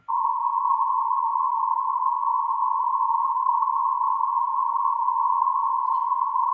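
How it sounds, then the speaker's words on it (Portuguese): Narrowband white noise plays as a steady, loud, continuous hiss confined to a narrow band, starting abruptly and holding unchanged with no other sounds. "E eu tenho aqui um ruído branco de banda estreita."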